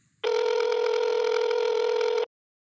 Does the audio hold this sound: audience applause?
no